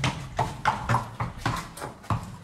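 Horse hooves clip-clopping in a steady rhythm of about seven close, clear strikes over a couple of seconds, with no talk over them.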